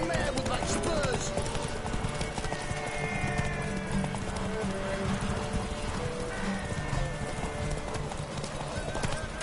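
In The Witcher 3, the mare Roach gallops with rapid, rhythmic clip-clop hooves, and whinnies come through in a busy, loud game mix. Voices talk over the hoofbeats.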